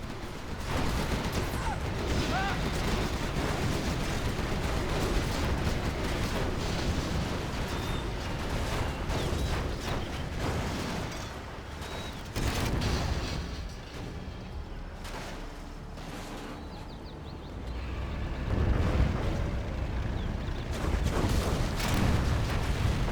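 Rapid gatling gun fire from a strategy game battle, shredding MiG jets over an airfield, a dense continuous roar of bursts and explosions with heavy low rumble, loud and unbroken throughout.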